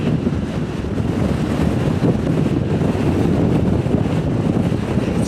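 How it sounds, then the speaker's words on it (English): Strong gusting wind on a mountain walk buffets the microphone in a loud, continuous roar, broadband and unbroken throughout, with no voices. "To say it's windy up here is a bit of underestimation."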